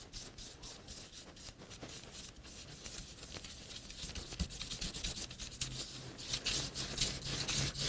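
A brush dabs excess ink onto the edge of cream paper for a papercraft project, giving soft, close-up scratchy rubbing and tapping that grows a little louder toward the end, with no talk.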